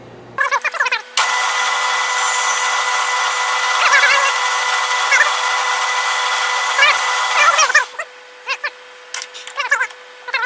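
A number 22 drill bores a tap hole for a thumb screw, making a steady, loud, whining drone for about seven seconds. A few faint clicks and knocks come just before and after.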